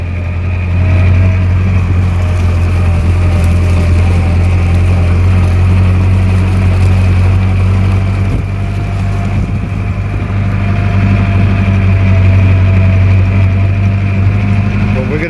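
Vintage 1925 Austin Seven car driving through a railway car park in winter, its small engine droning steadily and close for the whole stretch, with a voice talking over it at times.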